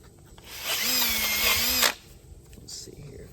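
A handheld power drill whirs steadily for about a second during curb rash repair on a car wheel, a loud close whine that starts and stops abruptly against a quiet background.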